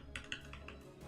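Quick bursts of keystrokes on a computer keyboard, a few close clicks clustered in an irregular rhythm, fairly quiet against a low background hum.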